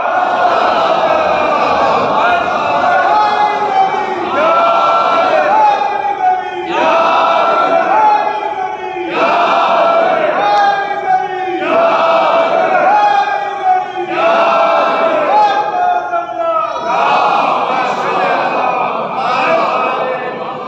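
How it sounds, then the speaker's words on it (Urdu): A large crowd at a Shia religious majlis gathering chants slogans for Ali in loud, rhythmic unison, repeated phrases rising and falling in regular waves throughout. "یہ آپ جو نعرے لگا رہے علی کے"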